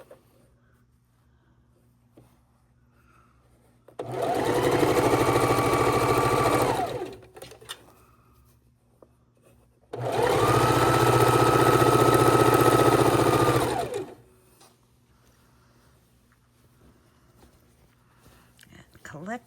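A sewing machine stitches pieces of a king-size quilt in two steady runs, about three and four seconds long, separated by a pause with faint room hum in between.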